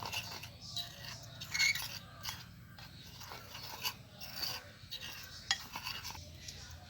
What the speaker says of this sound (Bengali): দুটোকে আমি ভালো করে মিশিয়ে নেব। মিশিয়ে আমি একটা ব্যাটার তৈরি করে নেব।